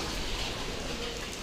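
Steady rain falls around a temple in a Shantou fort village in Guangdong, a dense, even wash of patter heard from under shelter, with no talk.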